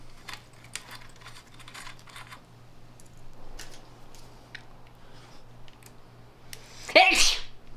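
A single sharp sneeze bursts out near the end, loud and close, after a stretch of quiet tapping and clicking from nearby work on an old motorcycle.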